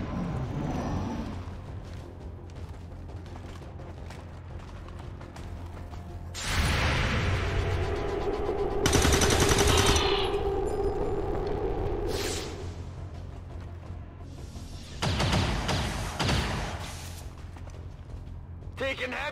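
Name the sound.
heavy gunfire in a video game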